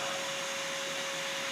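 A vacuum cleaner runs steadily inside the trunk of a Harley Electra Glide motorcycle, a loud, continuous motor whine with a constant tone and an airy rush, with no talking.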